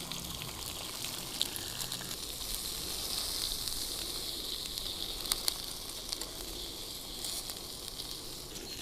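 An egg sizzles and spits in a pan on a compact Jetboil Minimo camping stove, a steady close frying hiss with occasional small pops throughout.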